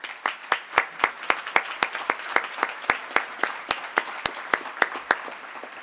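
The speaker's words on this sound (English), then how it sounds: "and we'd love to give you a round of applause." Applause for city council members at a State of the Downtown address, heard as a small group clapping in a steady, evenly spaced rhythm of distinct sharp claps rather than a dense roar, moderately loud and close.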